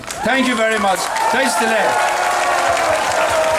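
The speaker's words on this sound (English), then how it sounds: "On l'applaudit. On peut l'applaudir encore." Audience applause for a speaker at a 2015 event, a sustained wash of clapping from a crowd that continues under a voice speaking close by.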